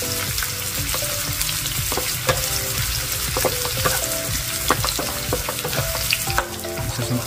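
Onions frying in a pan for crispy dinuguan, a close, steady sizzle with crackling pops and occasional stirring scrapes, with no talk over it.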